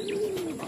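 A racing pigeon gives a single soft, fairly quiet coo, a brief smooth tone over light background noise.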